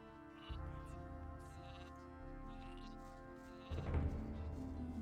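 Sheep bleat faintly in the video game Gothic II, drawn-out calls over a sustained background tone that swells louder near the end.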